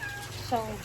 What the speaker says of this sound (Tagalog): Aming pusa.